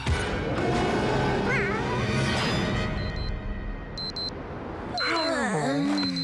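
A cartoon scene with bursts of electronic beeping alarm tones over busy background noise and clattering, ending with a squealing animated voice.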